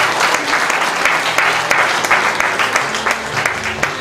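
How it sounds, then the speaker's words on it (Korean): Crowd giving a big round of applause at the opening ceremony of a provincial council candidate's campaign office, dense sustained clapping throughout, loud and close, with a faint voice underneath. "큰 박수 부탁드리겠습니다."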